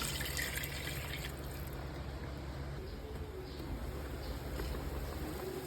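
Cloudy water from washing rice is poured into a cooking pot of sinampalukang manok, a tamarind chicken soup. The liquid gives a soft, continuous splashing and trickling pour at low volume.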